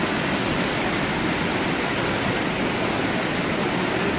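Amboli waterfall in full flow, a loud, unbroken roar of rushing, crashing water that stays constant and close throughout, with no voices over it.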